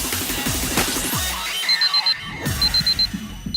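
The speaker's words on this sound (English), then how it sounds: "at that moment, the Moon's Age's alarm goes off" An alarm in the visual novel I/O goes off: a short electronic beeping pattern repeating in brief bursts over a low musical background, fairly quiet.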